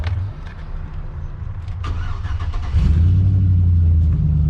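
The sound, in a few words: car engine revving through exhaust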